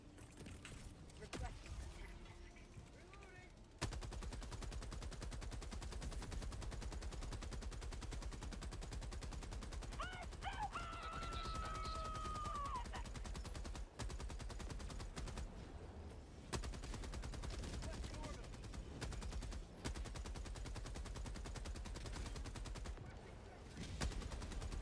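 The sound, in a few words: heavy machine gun firing in video game Helldivers 2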